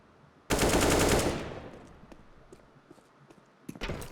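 Rapid burst of gunfire in a Counter-Strike match on the Nuke map, one loud close volley followed by quieter scattered shots and a second short burst near the end.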